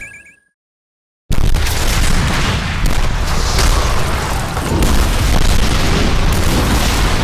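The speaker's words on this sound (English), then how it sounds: "Totally clipped audio, random explosions in the sky" In a video game, after a moment of near silence, a loud, harshly distorted and clipped roar of explosions in the sky erupts and continues, with booming blasts swelling and rumbling throughout.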